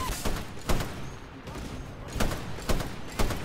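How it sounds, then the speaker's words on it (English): Bursts of light machine gun fire in the Titanfall video game, with several short volleys spaced across the moment over a steady background, fairly loud and unaccompanied by talk. "Got a lot of recoil though on the LMG."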